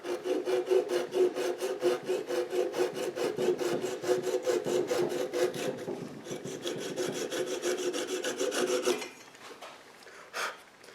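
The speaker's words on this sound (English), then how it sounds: "Actually, the saw ended up doing it pretty clean" A hand saw cuts through wood for an inside-out Christmas tree ornament, giving a steady close rasping rhythm of back-and-forth strokes that slows and lightens near the end, with a brief scrape after a pause.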